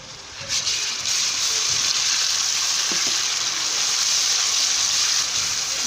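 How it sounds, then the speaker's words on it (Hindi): Ginger garlic paste hitting hot oil with roasted spices, a loud, dense sizzle that flares up at once and holds steadily, with a couple of faint stirring clinks and no talking. "मसाले की हमने अच्छी तरीके से भुनाई कर ली है। अब इसमें हम अदरक लहसुन का पेस्ट डालेंगे"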